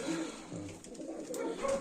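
A Baku fighting pigeon hen gives a couple of soft, close cooing calls against a light room background.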